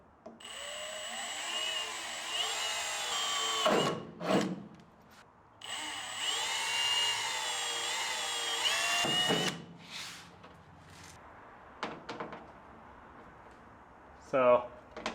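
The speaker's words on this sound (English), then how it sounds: "so I'm drilling new mounting holes" A power drill bores mounting holes in sheet metal on a furnace restoration in a shop, whining in long bursts, with pauses between them and clanks and knocks in the gaps.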